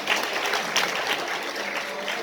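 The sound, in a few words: audience applause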